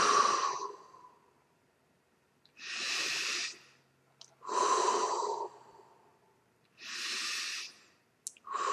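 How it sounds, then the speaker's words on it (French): Deep belly breaths are drawn in and let out slowly in long, airy cycles. About four breaths are heard up close, separated by short pauses of silence. "je vous invite à prendre 3 grandes respirations ventrales"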